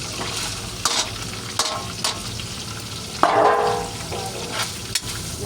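Washed cabbage goes into a hot pan and fries with a steady sizzle, broken by several sharp stirring scrapes and one louder burst of hissing as the leaves hit the oil.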